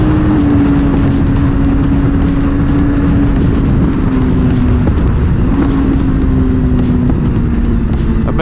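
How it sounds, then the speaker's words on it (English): Chevrolet Camaro driving past at a bike night, a loud, close engine drone holding a steady low note that shifts slightly in pitch, over constant traffic and engine noise. "I bet this Camaro going over there too."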